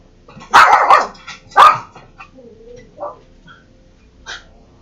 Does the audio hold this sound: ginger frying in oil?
no